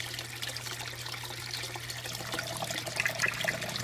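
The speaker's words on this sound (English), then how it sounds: "So there we go, it's siphoning." Water siphons out of a basement aquaponics tank with a faint, steady trickle and gurgle over a low hum, a few small drips and splashes near the end; no voices.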